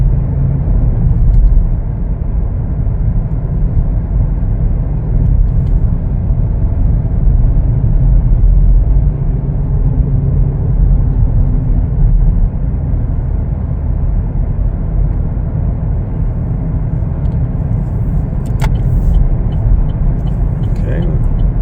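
Steady, loud low rumble from inside a 2021 Chevrolet Blazer LT as it drives and accelerates. The road and engine drone stay constant throughout with little variation, and someone talks over it.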